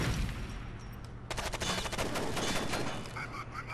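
Rapid bursts of gunfire from a firefight in the video game Rainbow Six Vegas 2, a dense volley of overlapping shots that swells partway through and keeps rattling steadily, loud and close, with no voices over it.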